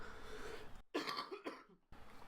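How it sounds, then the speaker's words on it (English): A few quiet, harsh coughs come in two or three short bursts separated by brief silences, close to the microphone. "Apologies if I'm coughing a lot."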